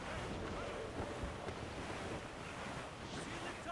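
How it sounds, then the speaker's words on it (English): Rough seas in a squall in Assassin's Creed Rogue, with continuous roaring wind and crashing surf around a sailing ship, a dense steady wash of noise at moderate level with no clear speech. "It's quite a rough squall, Captain."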